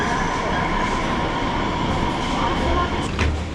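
Free inter-terminal train at London Heathrow rolling along, a steady loud rumble of wheels and carriage noise with a brief squeal near the end, no clear voices.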